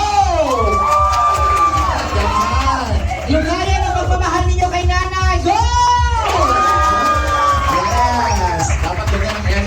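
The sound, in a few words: party crowd loudly clapping and cheering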